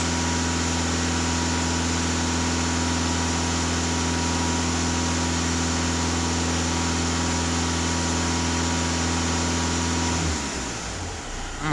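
A VW Touran TDI diesel engine is held at raised revs. It makes a steady, loud mechanical hum with a strong low tone for about ten seconds, then the revs fall off and the sound turns rougher near the end.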